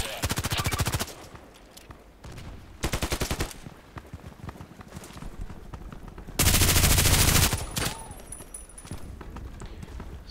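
RPKT machine gun in the Contract Wars shooter game firing loud, rapid bursts, with several long sustained volleys separated by quieter stretches of in-game ambience and footsteps.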